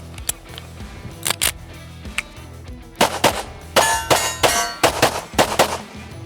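Pistol fire with 147 grain bullets on steel targets: sharp shots each followed by a metallic clang, a few spaced hits early, then a fast, loud string of rapid shots and rings.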